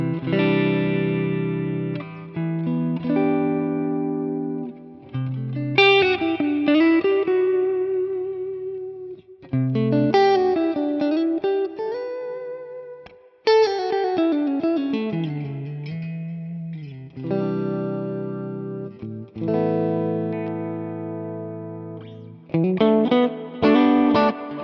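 Clean electric guitar played through a Nano Cortex capture of a Lonestar amp with noise gate, delay and reverb, ringing chords and melodic single-note lines with sustained, echoing tails, loud and alone.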